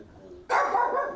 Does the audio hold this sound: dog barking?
yes